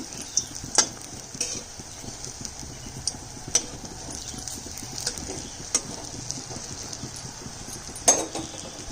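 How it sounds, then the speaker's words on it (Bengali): Fritters crackle and sizzle in hot mustard oil, with occasional sharp clicks and spatters breaking through the steady frying noise; no voices. "সমস্ত বড়া ভেজে নিচ্ছি"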